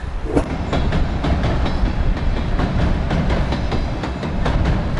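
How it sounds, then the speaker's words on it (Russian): An electric commuter train bound for Krasnaya Polyana rolls past close by in Kudepsta, Sochi, with a steady loud rumble and rhythmic clicking of wheels over rail joints, no voices. "И вот пошла электричка, ласточка на Красную Поляну."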